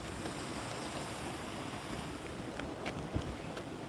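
Steady broadband wash of running water outdoors, a continuous even rush with a few brief knocks near the end, no voices present.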